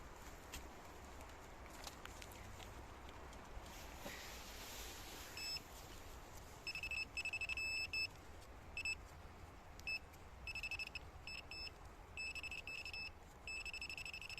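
A Nokta Makro Simplex Plus metal detector gives repeated short high-pitched beeps in irregular bursts over a quiet outdoor background, with faint rustling as it is swept.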